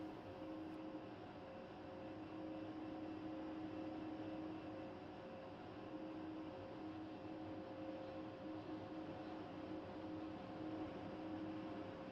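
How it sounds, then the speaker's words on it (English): A Spitfire's piston engine drones in the DCS flight simulator, a steady, even hum holding constant throughout with faint tonal whine and no speech. "So I've got my sound back on the Spitfire"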